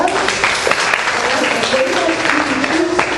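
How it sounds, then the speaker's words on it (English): An audience's round of applause, dense and steady clapping filling the room at a close, loud level, with some voices underneath throughout. "Give them a big round of applause."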